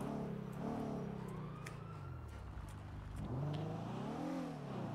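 Engine of a car revving inside GTA NoPixel, a steady mid-level drone with pitch rising and falling in waves as the throttle is worked, no talk over it.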